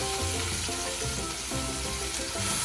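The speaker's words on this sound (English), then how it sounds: "So now we're throwing in our meat. And then we just need that to fry up" Meat frying in a pan with onion and garlic for moussaka, a loud steady sizzle with crackling and some stirring, close up and with no talk.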